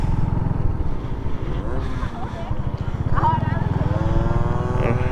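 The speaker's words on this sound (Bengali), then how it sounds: "নদীর পাড়ে মোটরসাইকেল রাইড করা" A motorcycle rides along a riverbank, its engine droning steadily and loudly with a low pulsing throb, rising in pitch briefly as it accelerates, with wind noise over it.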